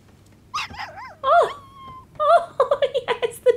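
A puppy in the video game Days Gone whimpers and yips in a string of high whines, then gives a quick run of short barks toward the end, close and clear with no talking over it.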